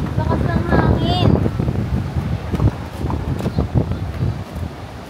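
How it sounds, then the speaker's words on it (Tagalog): Strong wind buffets the microphone at Patar Beach in Bolinao, a loud, rough rumble running throughout while people talk close by. "Lakas ng hangin."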